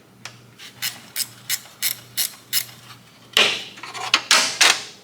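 A ratchet tightens the bottom bolt on a Jeep power steering pump, giving a run of about nine evenly spaced clicking bursts, close and distinct, that turn into faster, louder ratcheting near the end with no talk.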